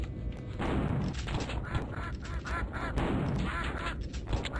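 Zombie ducks in a video game quack loudly and continuously, a dense cluster of overlapping honking calls with game effects underneath, filling the whole stretch without pause.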